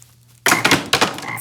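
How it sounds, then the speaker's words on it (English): Loud, close frog croaking sound effect bursts in after a near-silent start, with raspy repeated croaks in two main surges over about a second. "God is gonna send frogs."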